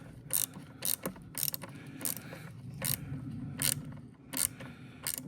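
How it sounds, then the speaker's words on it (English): A ratchet clicks in short repeated bursts while turning screws on a kitchen island, crisp close ratcheting strokes separated by brief pauses, with no talk. "Now I'll get the ratchet."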